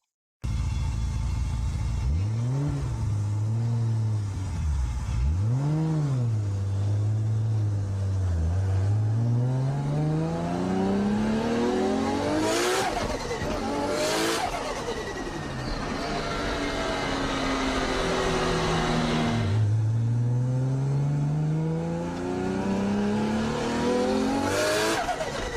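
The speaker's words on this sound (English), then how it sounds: "In case you're not familiar with this sort of modified car, it's got what's known as an open wastegate." A modified turbocharged car with an open wastegate accelerates hard along a residential street, its engine note sweeping up through repeated gears, with sharp bursts and a loud pass-by, then another rising pull.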